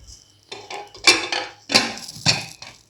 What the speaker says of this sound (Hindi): तो चलिए हम कुकर लगा देते हैं।